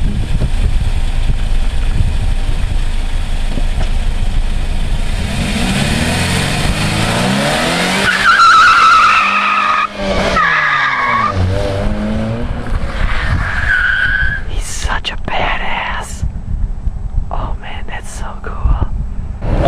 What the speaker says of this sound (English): Okay, we just did a burnout.